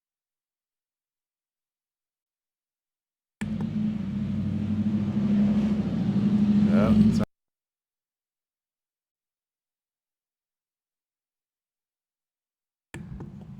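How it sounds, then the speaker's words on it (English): A loud truck rumbles past on a residential street, its deep roar swelling for about four seconds and then cutting off abruptly. A short spoken voice follows near the end. "a loud truck on our street"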